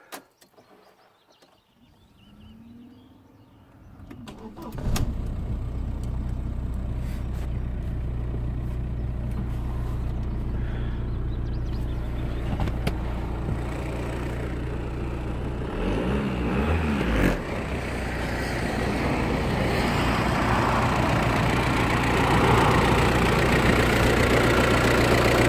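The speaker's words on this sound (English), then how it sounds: "But I'll just start it up now to show" VW Passat B5.5 car that had sat unused for around two days, its engine cranking and catching after a quiet start, then settling into a steady, close idle that runs on alone with a slight rise near the end.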